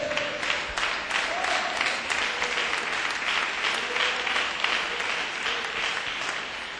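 A church congregation claps together in sustained, dense applause that stays loud and steady from start to finish.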